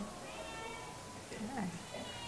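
A cat meows indoors, a rising and falling cry heard once or twice near the middle, faint and close, under a steady room hum with a person talking quietly.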